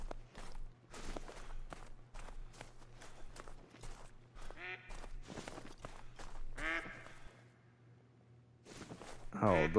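Duck quacks on a forested ridge ring out in short bursts between rustling footsteps, with a person's sighs and breathing close by and a steady low hum underneath.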